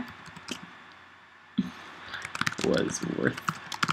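Rapid, crisp clicking bursts of cards being shuffled in a video game, with quieter gaps between them, close up and fairly loud.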